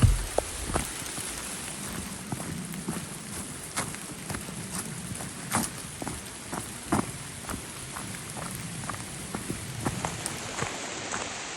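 Rain falls steadily on a mountain trail during a hike, a soft continuous hiss scattered with sharp raindrop ticks and occasional louder drips throughout, faint and with nobody talking.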